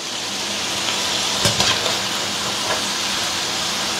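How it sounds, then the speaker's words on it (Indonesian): Skin-on potatoes deep-frying in hot oil give a steady, close sizzling hiss throughout, with a brief burst of crackling near the middle and no talking. "Ini kentang gorengnya tak goreng"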